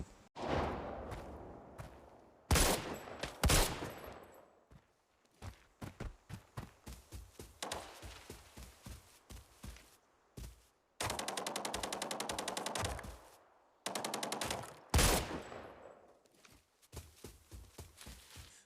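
Gunfire in the shooter game Arena Breakout: bursts of sharp automatic shots and single cracks, some near and loud, others in rapid rattling strings, separated by quieter gaps with faint footsteps and movement.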